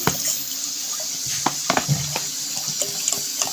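Water is poured into a cooking pot for chicken yakhni, a splashing, gurgling stream with scattered drips and clinks, close and moderately loud.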